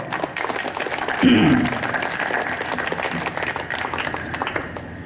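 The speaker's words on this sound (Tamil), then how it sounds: "இவ்வளோ பேர் கைத்தட்டுனா சத்தம்." Many people clap together at a church festival for Our Lady of the Rosary, a steady, moderately loud rattle of hands that swells briefly early on and then tapers slightly, with a voice heard over it.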